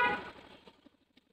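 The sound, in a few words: horn on a Yamaha Aerox 155 motorcycle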